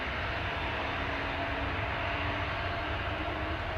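Aircraft engine under test at Schiphol Airport, a steady, loud broadband roar with a deep rumbling low end and a faint tonal hum, holding evenly throughout without pause, churning like a washing machine spinning hard.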